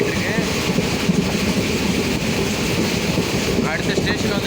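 A passenger train runs fast between Ariyalur and Villupuram, heard from inside as a steady loud rumble with rhythmic wheel clatter and faint squeals near the end.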